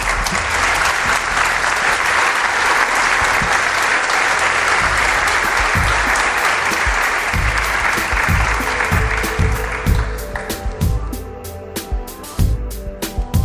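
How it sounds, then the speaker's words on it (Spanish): An audience gives a guest a long, full round of applause that stays dense for about ten seconds, then thins into scattered individual claps near the microphone. "Pido un aplauso para él."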